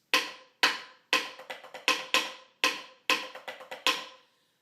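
A marching snare drum plays the Apollo cadence alone, sharp rim-shot accents and quick sixteenth-note groups ringing out in a repeating pattern of bursts, close and loud.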